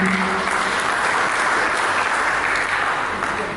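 A congregation claps steadily and enthusiastically during a church sermon, sustained applause that fills the room throughout.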